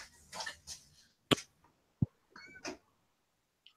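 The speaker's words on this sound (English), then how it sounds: "His cat's in labor." A cat in labor gives a few short, strained meows, with several brief separated calls close to the microphone and quiet gaps between them.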